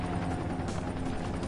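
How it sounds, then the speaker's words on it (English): Video game helicopter, a loud steady rotor drone with a dense low rumble and whirring noise, constant and close with no talk over it. "Get in the chopper."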